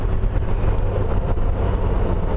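A 2012 Honda Goldwing motorcycle riding along, a steady low engine drone with road and wind noise, loud and close with no talk.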